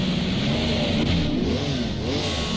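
Porsche engine in a racing video game, a steady loud drone with wavering pitch as it revs and shifts, continuous throughout.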